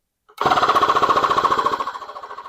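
A small digital tyre inflator pump chatters in a fast, steady rapid pulse, starting abruptly and running loud and close, easing slightly toward the end.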